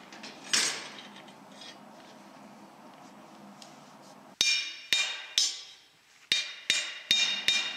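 Sharp hammer blows strike metal on a John Deere quick hitch in an uneven series of about seven hits, close and loud, after a quieter stretch of faint shuffling.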